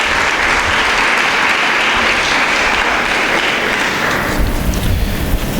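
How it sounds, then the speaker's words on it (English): Audience applause fills a hall at a school speech day, a steady dense patter of many hands clapping close and loud throughout, with no break or talking over it. "Let's applaud them for their feats this morning."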